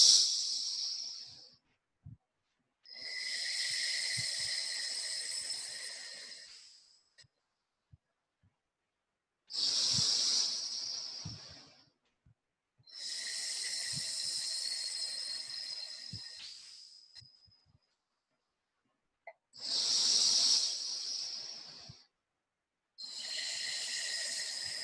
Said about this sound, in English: We're going to do 5 big deep breaths.